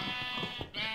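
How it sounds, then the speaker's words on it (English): A single sheep bleat in the video game Minecraft, a short nasal wavering call heard close and clear over a quiet background. "we got a sheepy here"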